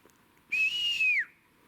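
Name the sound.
whistle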